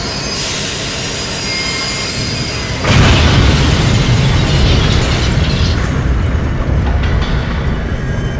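Two trains, NG-192 and P-22, collide head-on in the early morning at Graniteville, South Carolina: a steady rail rumble gives way to a sudden loud, sustained roaring crash that stays heavy and dense to the end.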